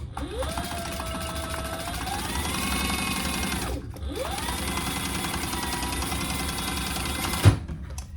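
Sewing machine running steadily, stitching a seam at a 2.5 mm stitch length on a fabric wristlet, a continuous motor whir with a brief pause near the middle and a sharp click near the end.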